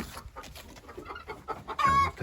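Meat chickens and chicks in a coop, soft scattered clucks and low murmurs close by, ending in a louder, sharper squawk.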